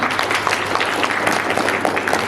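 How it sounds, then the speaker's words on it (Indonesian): An audience at a board installation ceremony in a Manado government office claps in dense, continuous applause, loud and close throughout. "Kita beri aplaus"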